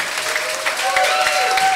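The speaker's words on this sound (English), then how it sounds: "I want you to jam your hands together." A church congregation claps their hands together in dense, continuous applause, steady and fairly loud throughout, with a faint sustained tone running underneath.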